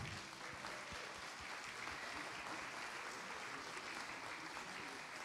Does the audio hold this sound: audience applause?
yes